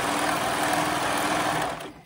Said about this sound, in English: as I'm pulling, I'm going to go ahead and sew.